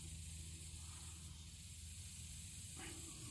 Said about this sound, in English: I'm gonna clean that off with some brake cleaner.